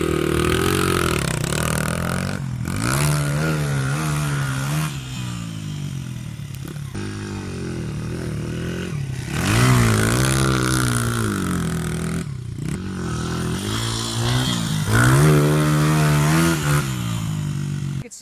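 A dirt bike in second gear ploughs through a sand rut, its engine revving up and down in repeated rising pulls, loud and close with no talk over it.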